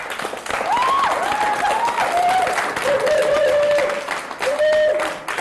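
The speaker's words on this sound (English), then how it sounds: "another round of applause for Professor Germaine Greer" Steady applause fills a lecture hall after a talk by Professor Germaine Greer, sustained clapping from the audience, loud and even throughout, while a voice speaks over it.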